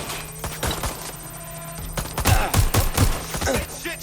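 Gunfire in Watch Dogs: Legion, a quick fusillade of close, loud shots clustered together over an electronic game background.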